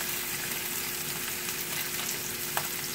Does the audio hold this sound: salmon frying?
yes